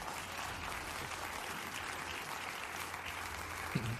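Studio audience applause, a dense, steady wash of clapping at even volume throughout, close and loud, with no speech over it.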